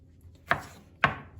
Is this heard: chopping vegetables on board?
yes